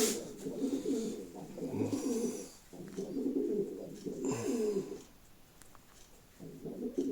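Sport pigeons coo in repeated low, throaty phrases, close and fairly loud, with short pauses between bursts and no talk over them.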